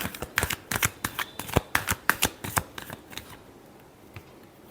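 Tarot cards riffle in a rapid run of about a dozen crisp, close flicks that fade into quiet after about three seconds.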